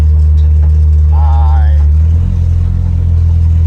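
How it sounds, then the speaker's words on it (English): A car drives just after an automatic transmission rebuild. Its engine gives a loud, steady low drone close by, and a brief voice is heard partway through. "We are driving."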